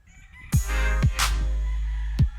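Gamefowl roosters crow at a breeding farm: a close, loud crow is followed by another, with sharp clucks and wing flaps between them, alone with no talk.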